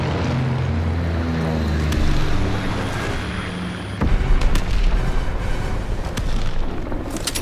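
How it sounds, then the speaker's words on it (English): Heavy bomb explosions from a killstreak bombing run in a shooter video game, deep booming rumbles rolling continuously, with a second loud blast hitting midway and sustained thunderous impacts after it. "Dropping Azon bomb."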